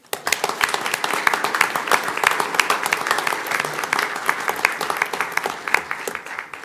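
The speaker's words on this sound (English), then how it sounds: "So we can give these guys one more round of applause" A room of attendees at a school board meeting claps loudly and continuously for a fall sports team and their coach, sharp overlapping hand claps sustained for several seconds.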